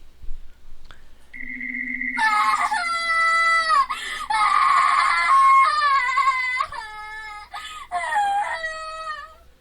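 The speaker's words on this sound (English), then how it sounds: "There was somebody screaming outside my window, running toward my house." In the video game Corpse Party Book of Shadows, a person screams shrilly and at length, the wavering cries rising and falling over several seconds and breaking into sobbing wails, loud and close, with a steady tone underneath at first.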